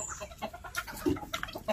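A native mother hen clucks in a few short, soft bursts inside a breeding cage, fairly quiet and close, with faint background noise.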